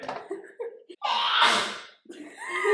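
A single sneeze burst in the middle of a short pause between breaths and vocal sounds, fairly close and clear.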